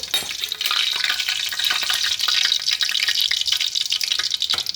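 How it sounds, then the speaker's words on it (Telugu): Chicken kebabs fry in oil in a kadai while they are turned, giving a continuous bright sizzle broken by small stirring clinks, close and fairly loud, with no talking. "వేరే కడాయిలు అయితే మనకి కబాబు కుక్ అవుతున్నాయి కదా ఇలా తిరిగేసుకోవాలి"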